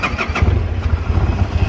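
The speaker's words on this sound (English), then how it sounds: "Start the vehicle." A vehicle engine cranks and catches as a key turns, a brief, loud, close low rumble with a rough pulsing churn.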